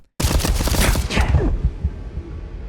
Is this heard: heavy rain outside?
no